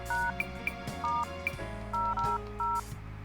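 A phone number dialed on a cell phone in the video game Monark, a quick run of about eight short keypad tones in an irregular rhythm over a steady low musical background.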